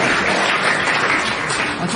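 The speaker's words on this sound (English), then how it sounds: "The audience, recognising brilliant play when they see it, bursts into spontaneous applause." Studio audience on a British radio panel comedy breaking into sustained, dense applause, loud and close with steady clapping throughout and no talk over it.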